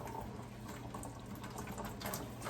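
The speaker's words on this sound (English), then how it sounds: "I'm going to turn this water down so you can hear me." Running kitchen tap water splashing steadily into a sink, faint and continuous with a low hiss throughout.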